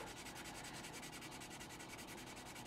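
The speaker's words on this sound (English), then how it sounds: "we can kind of press down a bit more, sand at it a bit more" Medium-grit sandpaper sanding a 1/48 scale plastic model jet, rapid rhythmic back-and-forth rasping strokes, faint but steady throughout.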